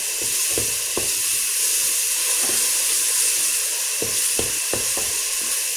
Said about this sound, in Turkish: Bakın yağım bıcırdamaya başladı tamam mı?